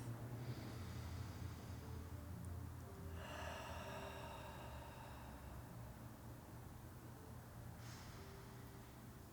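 Slow breaths pass in and out through the nose during meditation, soft airy inhales and exhales heard close up over a low background hiss, no talking.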